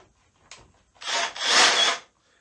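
A Makita 18V cordless right angle stud and joist drill (XAD05/XAD06), run forward in high speed, bores into a wooden stud with a short grinding, rasping burst that lasts about a second, heard alone.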